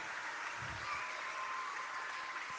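A rally crowd in Saskatoon applauds steadily throughout, a dense, even wash of many hands heard from a distance at modest volume, with no voices over it.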